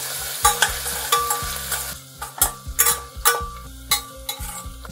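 Ginger and garlic fry in a pan over low heat for tomato rice while a spoon stirs them, with scraping metal clinks repeating over a steady soft sizzle, close up and without talk.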